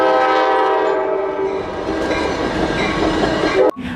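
A blue, red and yellow Thomas toy train set plays a loud, steady train sound effect with horn-like tones and rail clatter. It runs for several seconds, then cuts off abruptly near the end.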